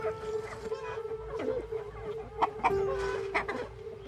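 Several chickens in rural Kenya cluck close by in short, uneven calls, with a steady hum running underneath.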